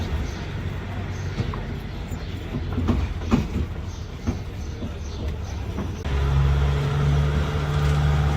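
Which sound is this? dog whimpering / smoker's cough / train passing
train passing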